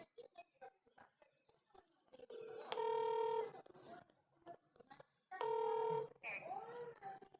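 Two bursts of electronic telephone dialing tones, each lasting about a second, with quiet talking and room noise between them.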